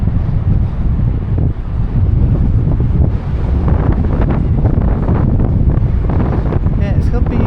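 Strong wind on the Blackpool seafront promenade buffets the microphone in continuous heavy low rumbling gusts, with brief dips, while a person talks underneath.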